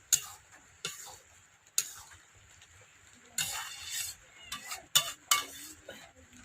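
Ridge gourd and prawn poppy-seed curry being stirred in a pan, with a few sharp clinks and scrapes of a spatula against the metal spread irregularly through the stretch, with quiet gaps between them.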